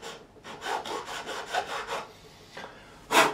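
A small saw or file rasps back and forth in quick, even strokes to cut a glue ridge off the edge of a guitar nut slot on a Crafter GAE45/N acoustic. The scraping is close and continuous, with a pause and then a final louder stroke.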